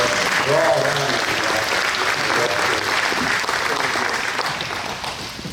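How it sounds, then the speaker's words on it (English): An audience gives a sustained round of applause honoring museum volunteers, the clapping loud and steady with a brief voice heard under it early on, tapering slightly at the end. "I'd like to recognize them with a round of applause"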